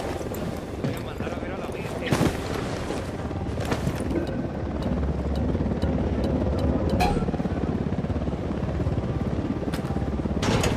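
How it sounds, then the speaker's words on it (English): A helicopter approaches during a firefight in the video game Ghost Recon Wildlands, its steady rotor drone running loud and continuous, broken by sharp gunshot-like cracks. "Chopper's approaching."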